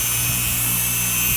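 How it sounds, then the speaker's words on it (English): A power tool fitted with a sanding wheel smooths the edges of a Kydex plastic holster, giving a steady, close motor whine with a faint grinding rasp throughout the short stretch. "Next, put a sanding wheel on."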